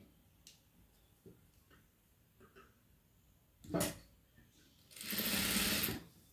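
A sewing machine stitches cloth while a crossed dotted trim strip is attached, running in one short burst and then a longer steady whirring run, close and fairly loud, with faint handling ticks before it.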